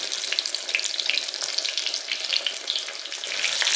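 Thin breaded pork cutlets fry in a pan of oil, giving a steady, moderately loud sizzle with dense crackling that carries on alone throughout.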